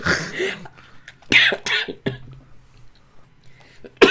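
Several sharp coughs close up, with short gaps between them and a final hard cough at the end; a little breathy voice in between.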